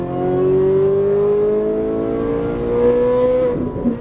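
A Ferrari 458 Italia accelerates hard out of a turn, its engine note climbing steadily in one loud, continuous pull, ending with a brief shift or lift near the end.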